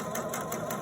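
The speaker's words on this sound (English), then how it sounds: "you can turn the hand wheel on the machine" A sewing machine's hand wheel is turned by hand, giving a low mechanical whir with a few soft, evenly spaced ticks in a brief, close burst.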